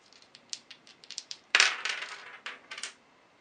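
Dice for the Memoir '44 board game rattle and clatter across a hard surface in a run of sharp clicks, then a louder tumbling burst and a few final bounces, close and alone.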